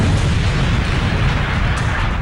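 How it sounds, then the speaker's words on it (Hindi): An explosives-laden car bomb goes off beside a group of Iraqi army tanks, a loud, dense roaring blast that fills the whole moment with sustained low rumble and no voices. "एक धमाका हुआ, पूरा इलाका गूंज उठा।"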